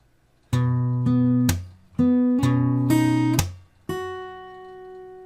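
Slow acoustic guitar phrase from a fingerstyle arrangement, with plucked open strings and notes ringing out. Sustained tones are broken by sharp percussive slaps, the last note decaying alone, close and clear.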